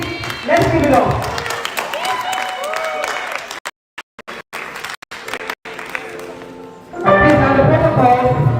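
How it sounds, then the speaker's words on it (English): An audience at an essay competition grand finale claps loudly, steady applause with scattered individual claps, fading briefly to a few isolated taps before the crowd bursts into clapping again. "With a round of applause, let's welcome Divine Adobe for our presentation."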